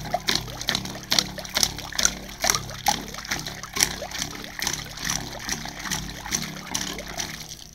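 Water splashing from a pipe on a half-horsepower single-phase monoblock pump while its foot valve is tested by hand pumping: repeated rhythmic gushes and splatters, close and steady, about two surges per second.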